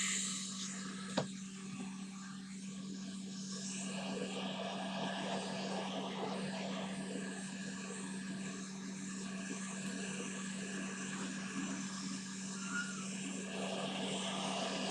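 Hot air rework station set to 490 degrees and 90% airflow, reflowing components on a Game Gear replacement circuit board, giving a steady, faint, continuous airy hiss with a constant hum and a single small click.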